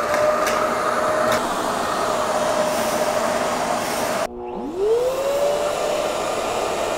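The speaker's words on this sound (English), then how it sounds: "the EyeVac, a touchless stationary vacuum." An EyeVac touchless stationary vacuum runs with a loud, steady whirring hum. Its motor cuts out briefly, then spins back up with a rising whine before settling into the same steady drone.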